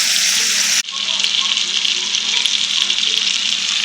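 Wild game meat fries in a hot pan with a steady, loud, bright sizzle. A brief dip marks the flip, and then the crackling sizzle carries on close and unbroken.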